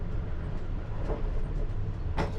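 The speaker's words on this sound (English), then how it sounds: "I'm just doing 10 mile an hour because I'm going across all these points." A Piccadilly line train rolls slowly at about 10 mph across points, a low continuous rumble heard from the cab with a couple of brief squealing or clattering accents.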